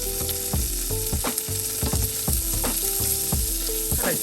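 Thinly diced ginger frying in a pan for a vegan oyster mushroom stir fry, a steady close sizzle with regular clinking scrapes of a utensil, and no voices.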